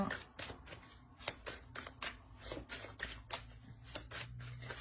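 Tarot cards shuffled and laid out by hand, a close rapid series of papery riffles and flicks with short pauses between, quiet and without talk.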